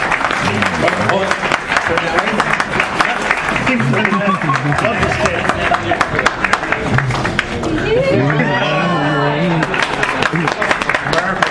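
Applause from a convention crowd at an East Coast Comicon costume contest, scattered clapping mixed with cheers under loud, nearby announcer talk and audience chatter.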